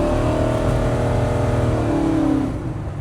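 A 510hp 1972 Chevy Nova pulls away with a loud, throaty V8 roar, the engine note holding strong and rising briefly before easing off, heard from inside the car.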